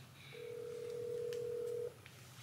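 A single steady telephone tone sounds for about one and a half seconds as a call is placed from a phone, clear and close with a quiet background before and after.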